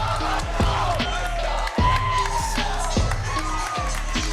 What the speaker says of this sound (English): take a look at this crowd here